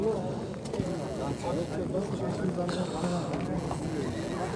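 Horses snort and whinny amid busy outdoor commotion, with people talking over a steady background of hooves and movement.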